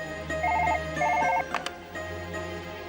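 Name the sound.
telephone ringing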